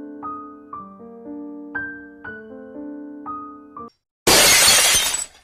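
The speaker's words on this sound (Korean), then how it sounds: "그때 접시 깨지는 소리가 들려오고" A plate shatters in the horror video game Ao Oni: a loud, sudden crash of breaking ceramic bursts out alone after a short, simple synth melody and a brief moment of silence.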